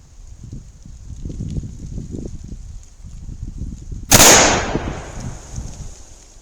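A Winchester 1894 lever-action rifle in .30-30 fires a single Hornady FTX round, one loud sharp crack about two-thirds of the way through with a short decaying tail, over a faint steady background hum.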